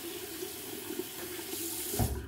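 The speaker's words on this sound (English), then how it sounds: "wet the brush here a little bit" A bathroom tap runs in a vintage barbershop to wet a shaving brush, a steady close splash of water that grows a little louder near the end.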